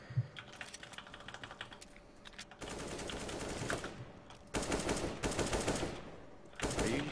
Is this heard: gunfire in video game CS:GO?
yes